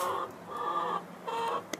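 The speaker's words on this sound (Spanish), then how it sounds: "está el gallinero revuelto." Agitated hens in a henhouse, unsettled after a new hen is added, give several close, rapid clucking bursts in an uneven rhythm with no talking.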